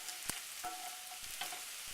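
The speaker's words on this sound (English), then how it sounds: "I'm just kind of swirling this this bacon grease, this hog jowl grease around a bit" Hot hog jowl bacon grease swirled around a skillet to coat it, giving a steady sizzling hiss with a few brief clicks of the pan, close and alone without talk.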